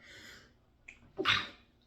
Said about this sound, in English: I had a sneeze fit